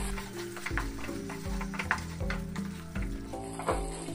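Fish masala gravy, cooked down until the oil separates, sizzles steadily in a pan while being stirred, with a continuous close frying hiss and soft scraping strokes throughout, no talking.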